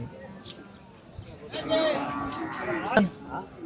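Cattle moo loudly nearby at a livestock market amid a murmur of people and livestock, with a second sharper bellow shortly after.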